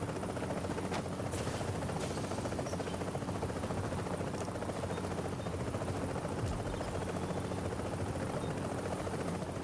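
A helicopter in the video game Tom Clancy's The Division. A steady, loud rotor drone runs unbroken through the whole stretch, with a few faint clicks and no talk.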